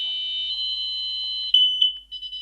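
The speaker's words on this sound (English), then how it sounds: "it beeps and it says winner" A game timer device's shrill electronic alarm beeps steadily, loud and close, then breaks into a few shorter chirps before stopping.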